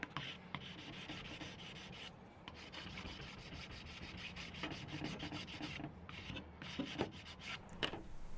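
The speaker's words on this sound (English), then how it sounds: "You start sanding and the dust is turning black, then you are getting into the carbon fiber." Sandpaper rubs back and forth over cured epoxy coating a carbon fiber sword, a close, steady rasping scrape in repeated strokes with brief pauses, with no talking.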